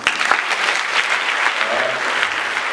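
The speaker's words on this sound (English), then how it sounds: "Would you give yourselves a clap?" An audience at a talk applauds together in a loud, dense, sustained clatter of clapping, with a brief voice murmuring faintly underneath.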